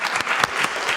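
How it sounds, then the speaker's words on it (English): Brief burst of clapping from an audience at a city council study session honoring a woman, a dense even patter lasting about a second. "Can we get a round of applause for Ann Stokes?"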